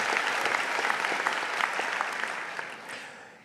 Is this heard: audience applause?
yes